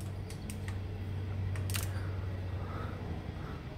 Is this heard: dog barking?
no